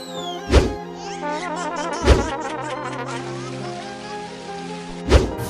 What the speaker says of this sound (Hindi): अरे बाप रे, यहाँ बरसात कैसे हो गई?